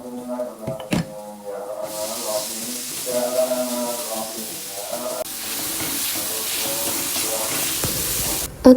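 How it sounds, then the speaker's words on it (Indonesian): Fried rice seasoning sizzles and hisses in a hot pan with a steady, bright frying noise. Harmonic tones and clatter are heard early on, and the sizzle grows more prominent toward the end. "Terus lanjut kita masak goreng bumbunya."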